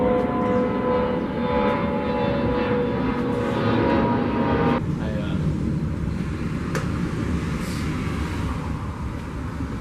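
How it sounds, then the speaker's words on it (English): A loud, steady aircraft engine roar fills the whole stretch, with a shift in tone midway as the plane passes over; a voice briefly murmurs underneath. "It's just an airplane going overhead."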